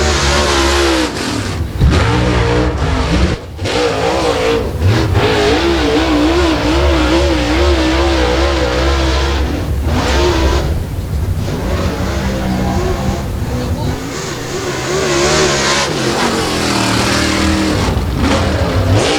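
Dirt late model race car, the number 77 Crop Production Services Donegal Seed car from Batesville, Arkansas, rolling onto the Timberline Speedway track for the Comp Cams race, engine revving and droning loudly and steadily throughout.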